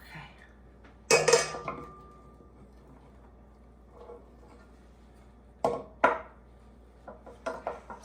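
Spatula scraping and clinking against a pan or bowl while spreading poppyseed filling over dough for a Ukrainian poppyseed roll, in a few short bursts with quiet gaps between.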